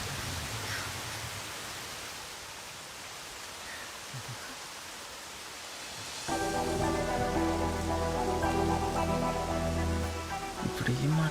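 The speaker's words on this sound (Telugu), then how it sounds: "వర్షం చాలా చల్లగా ఉంది కదా" Steady rain falling on a surface as a broad, even hiss, with music swelling in partway through and playing over the downpour.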